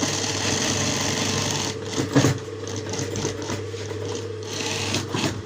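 Sewing machine stitching a front pocket: a continuous rapid mechanical whirr with steady motor hum, briefly interrupted by a pause and clack before stitching resumes, close and loud with no talk.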